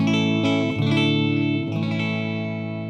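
Electric guitar played through a Fender Super Reverb amp with the bass turned up, sustained chords ringing with reverb and a few chord changes, the sound holding and slowly decaying alone.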